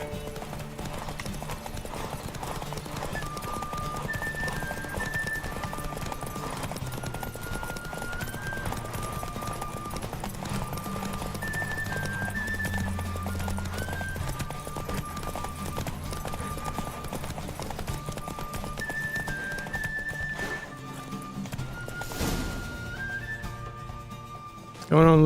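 Horse galloping in The Witcher 3 video game, a steady rapid clip-clop of hooves running throughout under game music, with a brief rider's call near the end.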